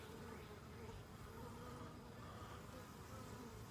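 Honeybees at a nuc box hive, with frames pulled out, give off a faint continuous buzzing hum that stays steady and close.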